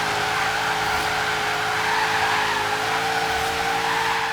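A Ford Falcon XR8 drift build in Forza Horizon 3 spins its wheels, a steady, continuous tire squeal and skid over a constant engine drone, loud and unbroken throughout with no talk.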